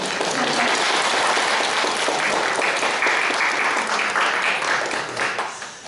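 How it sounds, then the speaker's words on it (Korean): A congregation at a Korean early-morning church service claps together to welcome a visitor, a loud, dense, sustained burst of many hands that holds steady for several seconds before tapering off, with no talk over it. "박수."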